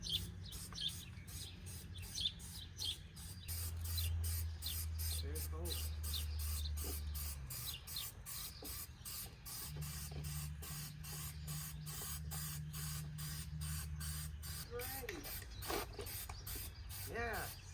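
A truck bumper is spray painted with short hissing bursts from an aerosol can, a rattle of the can between them, and quiet talk mixed in.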